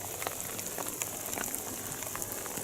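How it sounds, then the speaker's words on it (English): November rain falling outdoors on the island of Bryher, a dense steady patter of drops striking nearby surfaces, constant hiss with scattered sharper taps and no talking. "This is proper English rain from November"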